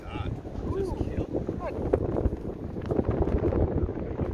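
Strong gusting wind buffets the microphone on an open golf course in harsh conditions, a loud continuous roar with surging gusts, while players talk faintly underneath.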